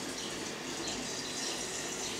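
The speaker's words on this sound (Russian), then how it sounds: "Заливаем тепленькой водичкой, температурой 37-38 градусов." Warm water at 37–38 °C pours steadily into a jar for homemade bread kvass, making a close, continuous gushing splash with no talk.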